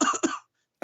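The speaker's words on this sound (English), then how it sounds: "Yeah, cough more." A person coughs twice in quick succession, a close, loud burst with a short gap between, followed by silence and the start of another cough at the end.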